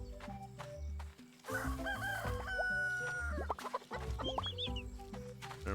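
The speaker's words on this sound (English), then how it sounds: "It gets a couple of chickens petted." Chickens in the farming game Roots of Pacha cluck and warble while being petted, several close, bright bird calls over a layered looping game music backdrop, with no talking.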